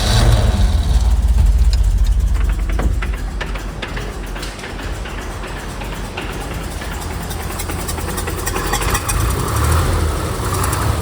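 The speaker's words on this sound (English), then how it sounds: "So that rattling noise is no doubt the throwout bearing." A 1969 Chevy C30 truck engine idles steadily, its low rumble carrying a faint metallic rattle from a worn throwout bearing, loud and close throughout with no talk.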